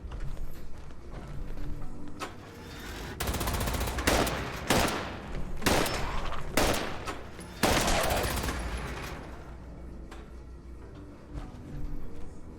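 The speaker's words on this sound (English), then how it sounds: "Got a kind of combat sniper with no suppressor on it, but it shoots with relatively rapid fire." Rapid bursts from an unsuppressed combat sniper rifle in Fallout 76, a string of loud, sharp shots fired in quick clusters and then pausing, close and dry, with mechanical clicks between volleys.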